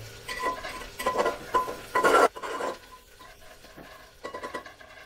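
Onions for chicken biryani cooking in a pan, with close scraping and stirring strokes in uneven bursts over a soft sizzle that fades to quieter stirring, no talking.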